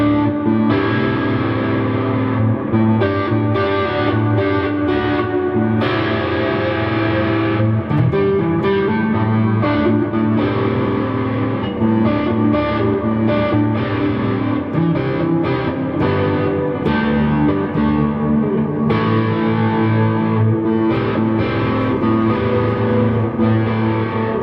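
Electric guitar played through a tiny budget Tube Screamer-style overdrive pedal with reverb after it, a loud, continuous run of driven chords and notes.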